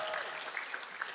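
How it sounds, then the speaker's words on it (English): Brief burst of applause from a crowd, a dense patter of clapping at moderate loudness. "Everyone give this a round of applause."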